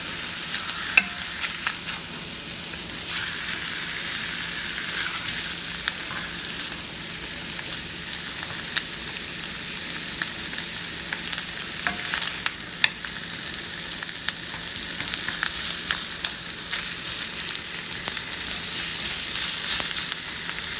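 Sausage fries in its own fat in a pan, a steady loud sizzle punctuated by occasional scraping and clacks of stirring, continuing without any talk.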